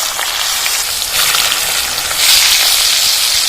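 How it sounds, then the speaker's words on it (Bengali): Sliced carrots with a pinch of turmeric frying in hot oil for a winter vegetable khichdi, a dense, steady hiss throughout that swells louder toward the end, with no talking. "গাজর কেটে নিয়েছি এবার তেলে দিয়ে দেবো"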